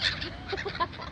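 Geese and other waterfowl by a river at Boulters Lock give a short burst of honks and calls, moderately close, with several overlapping cries and a brighter honk near the end.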